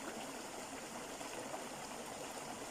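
Flowing water of a river or stream, a soft continuous rushing and trickling wash that stays even and gentle throughout, with no voices.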